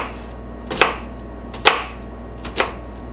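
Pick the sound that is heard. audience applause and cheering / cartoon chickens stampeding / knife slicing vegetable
knife slicing vegetable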